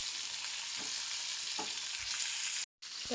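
Ingredients for puran poli being dry-roasted in a pan, a constant bright crackling hiss with occasional scraping stirs, close, cutting out briefly before resuming near the end.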